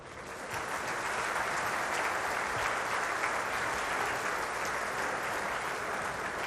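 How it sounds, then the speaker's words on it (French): A crowd applauds steadily for several seconds, a dense, even patter of many hands clapping at moderate distance. "Vous applaudissez."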